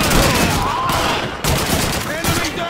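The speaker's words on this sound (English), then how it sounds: "Lewis, open fire!" Sustained rifle and machine gun fire from Call of Duty 2, dense overlapping bursts of shots that roll on without pause for the full stretch, loud and close, with a brief dip midway before the firing picks up again.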